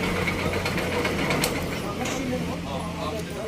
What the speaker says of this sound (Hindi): जब हमने बाइक को स्टार्ट किया तो इसका जो साउंड है दोस्तों वो है क्रैंक का